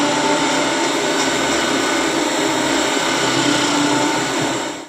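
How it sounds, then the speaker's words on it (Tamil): A Zodiac kitchen machine grating peeled carrots for carrot halwa, a loud, steady motor whir that runs without a break and cuts off abruptly at the end. "ஜோடியாக் நல்லா துருவி கொடுத்துருச்சு."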